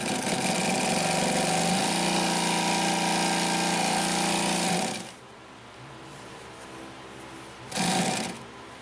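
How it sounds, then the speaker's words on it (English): A Consew P1206RB industrial sewing machine runs a steady, loud, rapid stitching rhythm for about five seconds, then stops, leaving quieter handling noise before a brief second burst of stitching. "we see the machine just rides over pretty evenly"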